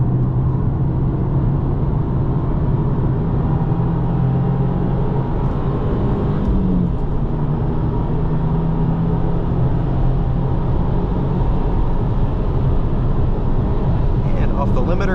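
A 2025 Subaru WRX tS engine drones loudly and steadily while driven on a track. Its pitch holds, then shifts slightly partway through, with a constant rumble and no break.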